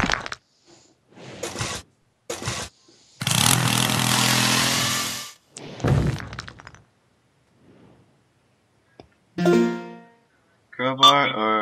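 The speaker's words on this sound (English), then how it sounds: "Drill." A loud, steady mechanical whir from a drill in a flash video game runs for about two seconds, starting up between short bursts of speech.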